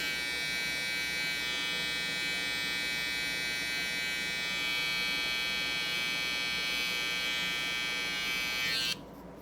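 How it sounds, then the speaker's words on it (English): An electric hair trimmer held sideways buzzes steadily and close while lining up a taper fade on curly hair. The tone holds constant for about nine seconds, then cuts off abruptly near the end. "Just kind of tilt your trimmer sideways."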